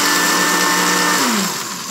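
Kitchen blender grinding small anil (bluing) stones into powder for homemade coconut soap washing powder, a loud close whirring roar that drops in pitch as the motor winds down near the end.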